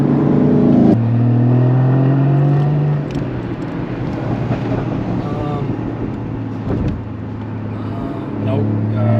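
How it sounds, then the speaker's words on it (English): A 2016 Porsche Boxster Spyder in Sport Plus mode grumbles and revs through its exhaust, a loud, steady engine note with rising and falling pitch. "I'm just going to turn up the exhaust just a little bit"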